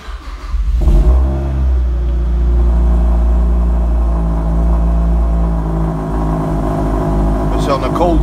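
A car engine fires up from a cold start and settles into a fast, slightly high idle, a loud, steady close rumble holding for several seconds, with a brief clatter near the end.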